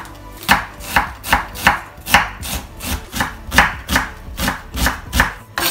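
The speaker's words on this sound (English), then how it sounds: "Onion, cut the onion into very small." A knife chops an onion finely on a board in quick, even strokes, about two to three per second, close and crisp, with no voices.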